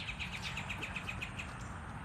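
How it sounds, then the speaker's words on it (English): A red-bellied woodpecker high in the pines gives a rapid, evenly spaced series of about a dozen thin calls, distant and faint over steady outdoor background noise on an early-morning neighborhood walk. "It's a red-bellied woodpecker."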